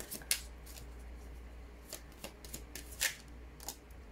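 Tarot cards are shuffled and one card is drawn, heard as several sharp riffling bursts and soft card flicks at close range over a low steady hum, with no talk.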